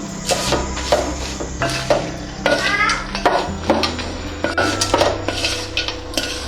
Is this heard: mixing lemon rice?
yes